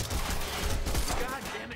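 Dense suppressive gunfire in the action game Quantum Break rattles continuously through a short tense moment, with shouting voices mixed into the barrage.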